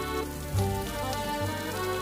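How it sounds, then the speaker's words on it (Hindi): Rain falling in a Hindi animated cartoon about a bird, a continuous soft hiss of rainfall running beneath steady background music. "पता नहीं ये बारिश कब तक चलेगी, कोई पता नहीं।"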